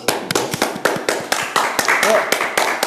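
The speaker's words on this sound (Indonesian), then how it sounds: "tepuk tangan dulu lah" Audience applause breaks out at a podcast recording in Bangka Belitung, Indonesia, as a string of sharp, uneven claps and taps rising and falling over a few seconds, with talking mixed in.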